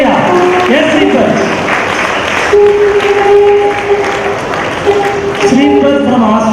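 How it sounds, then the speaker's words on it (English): An audience at an awards show breaks into steady, moderately loud applause that carries on throughout, with a voice speaking over the clapping and musical tones underneath. "Clap for Sweeper from Australia."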